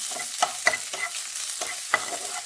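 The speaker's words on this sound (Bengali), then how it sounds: "ঘি দিয়ে জল ঝরিয়ে রাখা কাজু কিশমিশগুলো একটু ভেজে নেব ঘিয়ের মধ্যে" Cashews and raisins, drained of water, fry in ghee in a frying pan, giving a soft, even sizzle broken by several sharp scrapes and taps of a spoon stirring them around the pan.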